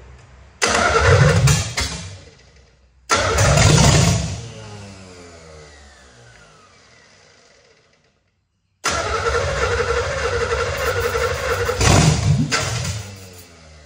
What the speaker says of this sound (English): the car is barely together, so it's not the happiest to try to start